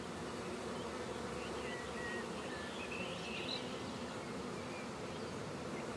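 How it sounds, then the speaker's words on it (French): Honey bees buzz steadily around a honeycomb frame full of honey, a dense, continuous insect hum with a few louder passes close by, and no talking. "Ne m'écrase pas les abeilles."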